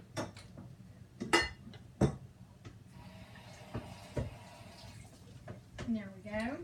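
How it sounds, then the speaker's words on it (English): Water runs briefly from a tap over a cutting board in a home kitchen, a soft steady wash mixed with clinks and knocks of kitchen items and scattered handling noises, fairly quiet and close. "I want to rinse off my cutting board real quick"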